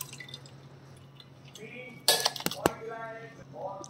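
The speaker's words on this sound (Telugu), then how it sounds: "ఈ రసాన్ని జాలి సాయంతో గిన్నెలో పోసుకుందామండి." Tomato rasam poured through a strainer into a bowl in a kitchen: metal utensils clink and clatter sharply, followed by liquid trickling and dripping, close and intermittent.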